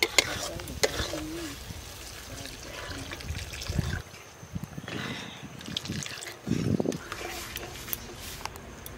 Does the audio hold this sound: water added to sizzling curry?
yes